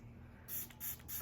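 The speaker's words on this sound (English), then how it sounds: "I'm just gonna spray some of my Smashbox" Smashbox primer sprayed from a bottle onto a makeup sponge, three short hissing spray bursts in a quiet room.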